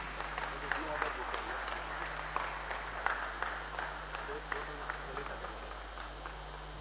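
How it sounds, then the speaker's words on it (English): Quiet, distant applause from an audience greeting a minister at a trade-show launch event. A steady scatter of hand claps sits under faint room murmur and a constant background hum. "Can we have a big round of applause for Madam,"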